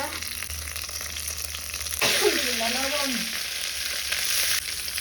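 Mustard paste and spices sauté in oil in a pan, sizzling steadily, with a brief wavering voice-like tone in the middle and a constant low hum underneath.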